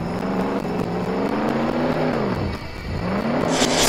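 A car driving in the Roblox Jailbreak video game gives a steady, close engine drone whose pitch rises and falls in waves, dips briefly midway, then holds under a brighter hiss near the end, with no talking.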